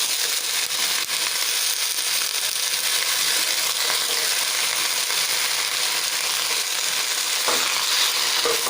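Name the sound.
bottle gourd leaves being added and stirred in a frying pan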